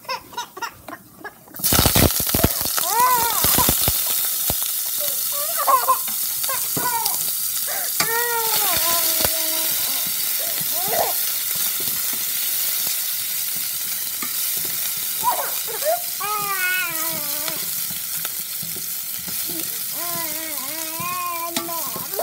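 Mustard seeds, urad dal, onion and garlic hit a hot pan with a sudden loud sizzle that keeps crackling steadily, with stirring and a few faint voices in the background.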